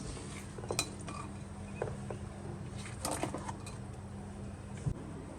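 Pounded crab being scooped into a pressure cooker, a few light metallic clinks and scrapes of utensils and vessel, sparse and fairly faint against a steady background hum.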